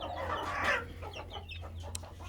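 Australorp hens cluck on a poultry farm in Pakistan, a few soft, close, irregular clucks and calls over a low background hum.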